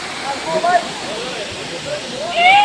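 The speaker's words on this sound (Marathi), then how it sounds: "आता इकडे धबधबा आहे आणि धबधबा कसा आहे बघू शकता आपण" A waterfall in Goa pours with a steady, loud broadband rush of falling water that fills the whole stretch, with faint voices mixed in.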